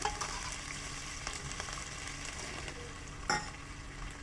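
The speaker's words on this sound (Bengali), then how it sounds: "তো দেখো দিয়ে দিচ্ছি ছোলাগুলো এর মধ্যে" Chickpeas tipped into spice paste frying in oil and stirred, a continuous soft sizzle with light scraping and one brief louder clatter near the end.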